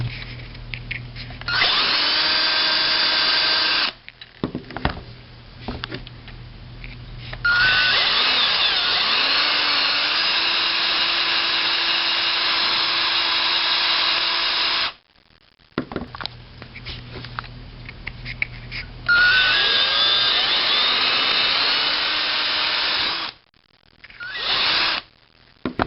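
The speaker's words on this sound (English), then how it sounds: "use a drill to drill out a little bit of more space in this plastic casing" Power drill boring into a plastic aquarium filter casing to widen a hole for CO2 tubing, loud close whining bursts of several seconds each, stopping and restarting, with brief pauses between runs.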